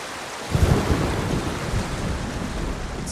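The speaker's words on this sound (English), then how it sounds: "Under the waterfall." A waterfall in the video game Ghost of Tsushima rushes steadily, a dense broadband roar of falling water that starts abruptly after a brief quieter moment and continues, loud and close, with no speech.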